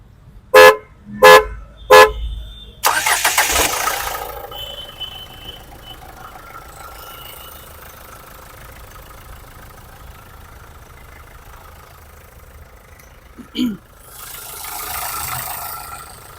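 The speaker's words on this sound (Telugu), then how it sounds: "మనకి నార్మల్ ఇంజన్ సౌండే వచ్చింది." Three short horn toots, then a 2014 Renault Duster 85 PS diesel cranks and catches, settling into a steady low idle. A brief knock sounds before the engine swells slightly near the end.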